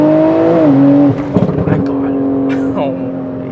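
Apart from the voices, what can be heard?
modified BMW M340i turbo engine accelerating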